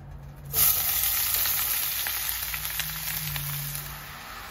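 Onions frying in hot groundnut oil for an onion masi dish, with a sudden loud sizzle as they drop in and then a steady crackling hiss that holds close and continuous, no voices.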